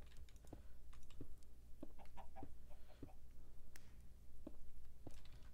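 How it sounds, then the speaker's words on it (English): Chickens cluck in the video game Minecraft SkyWars on a Mineplex server, faint scattered clucks and squawks mixed with soft keyboard typing clicks, quiet throughout. "Okay, you gotta protect a chicken."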